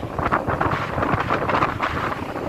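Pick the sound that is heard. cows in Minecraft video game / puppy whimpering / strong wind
strong wind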